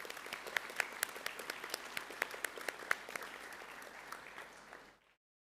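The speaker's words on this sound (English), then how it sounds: "Give yourselves and your peers a round of applause for these results." School assembly audience at a girls' grammar school claps in steady applause, with scattered sharper individual claps standing out, fading away near the end.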